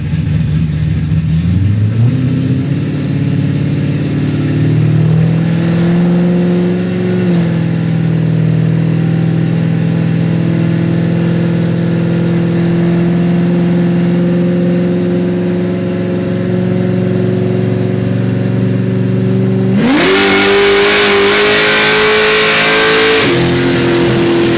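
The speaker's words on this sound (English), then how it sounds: "could be the last nitrous pull on the dyno here before we head to the track." A nitrous-equipped Ford Mustang V8 on a dyno climbs through a long wide-open pull. The engine note rises steadily and loudly, then surges into a harsher, louder roar near the end before easing off.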